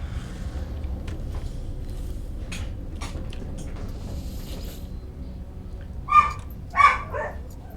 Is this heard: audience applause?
no